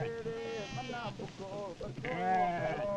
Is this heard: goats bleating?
yes